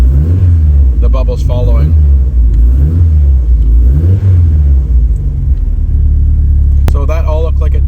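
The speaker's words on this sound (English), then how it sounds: "as I rev the car" A turbocharged car's engine revved repeatedly while its electronic boost control is tuned, a loud, deep rumble rising and falling in several swells, with someone talking over it.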